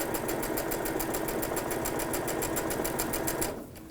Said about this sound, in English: and then I just sew. I use this feature all the time on this machine.